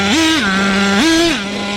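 A Traxxas T-Maxx 3.3 nitro RC engine with a drilled exhaust revs loudly and close by, climbing twice to a higher pitch and dropping back to a steady buzzing drone between the bursts, with no voices.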